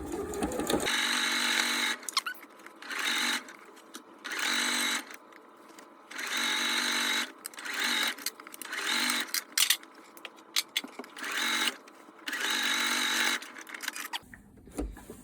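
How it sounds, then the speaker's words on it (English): Sewing machine top stitching fat quarter fabric for an Easter basket, running in steady bursts of about a second or two with short pauses between, close and fairly loud with no talk. "I'm going to do the first of 2 top stitches"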